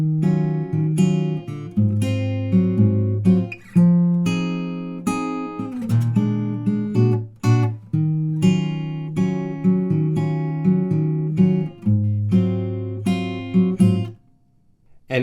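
Fingerpicked guitar playing a tab line from a song, plucked notes over bass tones in a gentle rhythm with a few staccato touches, close and clear, ending in a brief pause.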